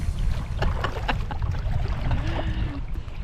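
A kayak paddle working through water, rhythmic dipping splashes over a low, steady rumble of wind and water noise, up close.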